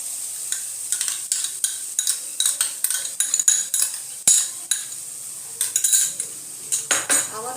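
A metal spoon scrapes and clatters rhythmically against a pan while curd is stirred into a cooked spice paste for a raw jackfruit and prawn curry, close, repeated strokes over a faint sizzle, no voices.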